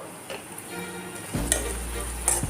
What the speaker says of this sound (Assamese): গাজৰখিনিও দি লৈছোঁ, আৰু এই গোটেইখিনি খুব ভালদৰে লৰাই দিছোঁ।